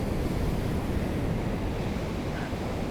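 Ocean waves and surf wash in as a dense, continuous roar mixed with wind buffeting the microphone, loud and steady throughout.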